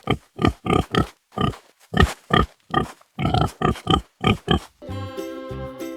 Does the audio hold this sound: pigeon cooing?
no